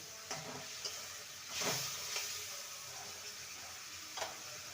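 Green peas hit hot spiced oil in a pan, giving a steady soft sizzle and hiss with a few stirring scrapes and a brief louder splash near the start, no talking.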